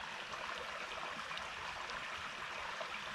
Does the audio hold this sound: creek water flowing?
yes